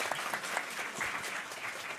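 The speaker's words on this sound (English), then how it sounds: "the first one who dares always gets an applause" Audience applause at a civil society forum, a steady wash of many hands clapping at moderate distance, even and continuous throughout with no voices rising above it.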